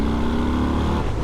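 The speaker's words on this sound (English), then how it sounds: "I'm just going to give it another bit of throttle just to see the power again." A Harley-Davidson Fat Bob motorcycle accelerating under throttle on the road, a dense, loud engine roar that rises and then eases slightly near the end.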